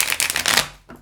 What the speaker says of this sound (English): One more pre-shuffle for you